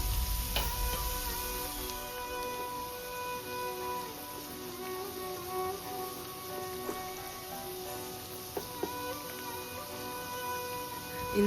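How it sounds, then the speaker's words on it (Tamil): Onions and garlic sauté in a pan for carrot rice, giving a steady, soft, hissing sizzle throughout, with a faint tonal hum in the background. "இந்த வெங்காயம் வதக்கிட்டுருக்கோம் இல்லைங்களா, அதில் ஆட் பண்ணிக்கோங்க"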